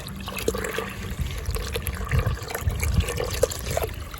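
Water runs into a bucket with a continuous gurgling, splashing flow and a few soft knocks, close and moderately quiet, with no talking.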